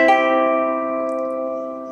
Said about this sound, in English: and a rolled chord will sound like this.